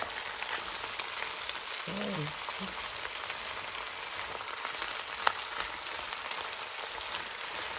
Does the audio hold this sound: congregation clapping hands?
no